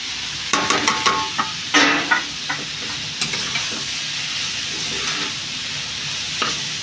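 Rice is stir-fried with a generous amount of vegetables in a pan: continuous sizzling under repeated scraping and knocking strokes of a spatula, close and moderately loud, with sharper clatters near the start.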